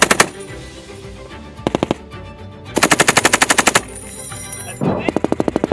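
M240B and M249 machine guns fire at an outdoor range at Camp Fuji, with loud, rapid bursts of automatic fire separated by short pauses and echoing across open ground.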